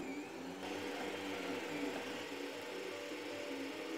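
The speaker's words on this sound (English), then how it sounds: "Here I am printing with 60mm per second with a layer height of" An Anet E10 3D printer running at 60 mm per second with 0.2 mm layers gives a steady, fairly quiet mechanical whir and motor hum that stays even throughout, with no speech.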